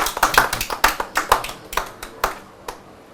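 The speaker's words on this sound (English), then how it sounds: "let's welcome Major General Edwin Sam, retired, with a round of applause" A small audience gives scattered applause while welcoming retired Major General Edwin Sam. The hand claps are distinct and fairly close, irregular and thinning out, and they taper to a few last isolated claps before quiet.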